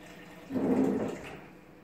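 Water is poured out for a cat in one short splash lasting about a second, rising quickly and then trailing off, close by in a quiet room.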